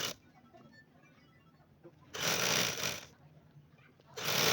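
A sewing machine stitches lace onto a neckline in two loud whirring runs, the first about a second long and the second starting near the end, with quiet pauses between.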